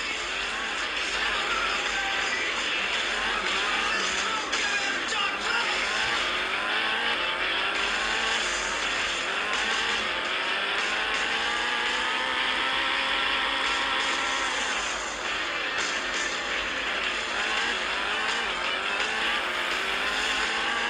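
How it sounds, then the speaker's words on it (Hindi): A car in a driving video game hums along continuously with a steady engine drone that rises and falls in pitch as it speeds up, loud and unbroken for the whole stretch. "हमारी कार जा रही है।"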